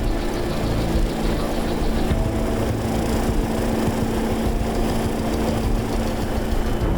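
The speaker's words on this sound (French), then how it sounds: "l'hélicoptère décolle du pont avant" A helicopter lifts off from the front deck of an offshore mission ship sheltering in a bay in force 10 winds, its engine and rotors producing a loud, steady, dense roar with no pauses.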